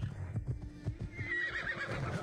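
A horse whinnies amid game audio, with a clip-clop of hooves and a brighter high-pitched neigh rising in the second half.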